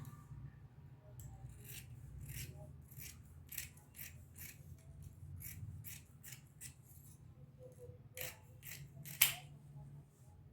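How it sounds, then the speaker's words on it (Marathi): Scissors cut the outer shape of a blouse sleeve from cloth in a series of crisp, close snips, spaced at an irregular rhythm over a low, faint background hum. "अगोदर आपण बाहेरचा आकार कट करून घेऊयात"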